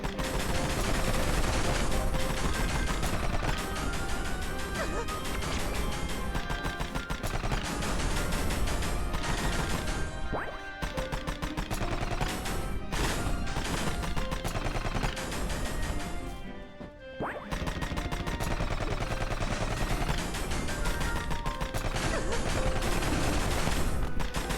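Rapid pistol fire from the video game Rusted Moss rattles almost without pause over a dense, loud game soundtrack, with brief lulls in the shooting.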